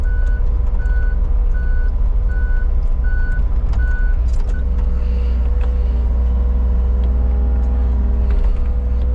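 A truck reverses with a steady series of evenly spaced backup beeps over a loud, constant engine rumble, close by, with no talking.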